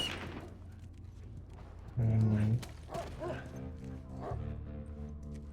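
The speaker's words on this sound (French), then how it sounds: "Il y a un chien qui aboie." Dog barking in The Last of Us, a short loud burst of barks followed by lighter yips and whimpers, with game sounds and a faint voice around it.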